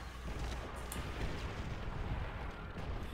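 A satchel charge goes off in Call of Duty: World at War, a low rumbling blast with a long, heavy roll of noise that holds steady for a few seconds, distant and muffled rather than sharp.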